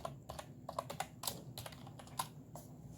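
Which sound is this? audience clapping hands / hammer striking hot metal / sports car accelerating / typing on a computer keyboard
typing on a computer keyboard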